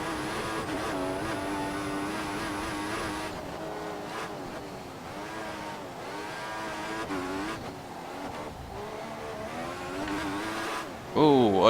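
An F1 race car in F1 2014 at the Monaco Grand Prix holds a sustained engine whine that rises and falls as it shifts, then a sharp burst near the end. A commentator talks over it.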